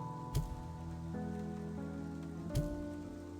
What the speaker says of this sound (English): the rain's pretty nice, actually